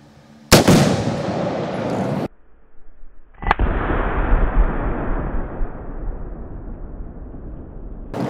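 Two loud booms from a PSA H&R Retro M16A1 rifle fired at an outdoor range, each cracking sharply and then rolling into a long echoing rumble, with no voices.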